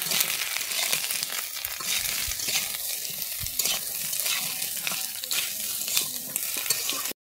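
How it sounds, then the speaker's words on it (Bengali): A thin Bengali fish curry is stirred in a pan after salt goes in, giving a continuous sizzling hiss with scraping, rustling strokes of the spoon throughout until it cuts off sharply. "নুন দিয়ে আমি ভালোভাবে নেড়ে নিচ্ছি"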